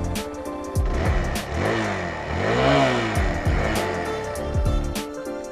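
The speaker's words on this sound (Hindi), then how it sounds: "तो ये एग्जॉस्ट का इसका साउंड है।" A Hero Xpulse 200 motorcycle's exhaust blipped repeatedly at a standstill, several sharp throttle revs rising and falling with a raspy, close, loud tone and no talk.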